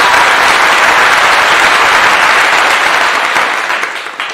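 Loud audience applause, a dense continuous burst of clapping that stays strong for a few seconds and then starts to fade.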